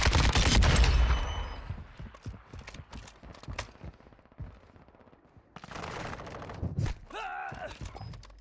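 RPK light machine gun fire on Ashika Island in Warzone, heard as dense bursts of rapid shots from close range, with scattered single cracks and thuds following and a short synthetic tone near the end.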